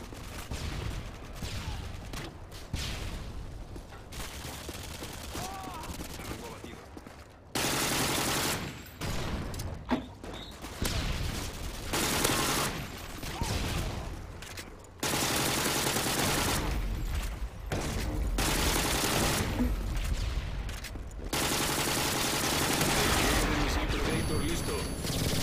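Shotgun and other gunfire in Call of Duty MW2 multiplayer: bursts of shots and mechanical clatter come in clusters across the match, with stretches of quieter gameplay between them.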